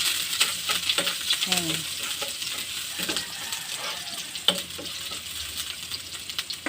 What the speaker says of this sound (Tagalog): Magluluto ako dito ng pork steak.